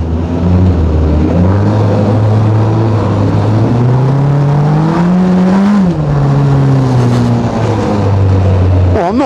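Formula Ford race car, 150 horsepower and 495 kilograms, driven on track from onboard, its engine loud and close, revving up and down through gear changes continuously.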